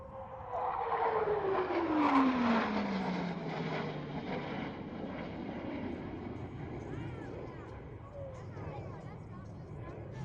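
Blue Angels jets 5 and 6 sweep toward the flight line at about 400 mph during an air show. The loud jet roar drops in pitch as they pass, then fades into a wide, rumbling wash.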